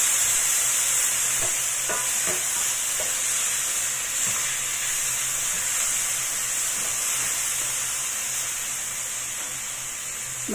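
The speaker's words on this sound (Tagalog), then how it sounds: "Ngayon, ilagay ko na ang tomato." Tomato is sautéed in a hot pan alongside bitter gourd, giving a constant close hissing sizzle, with a cluster of stirring scrapes and clicks near the start.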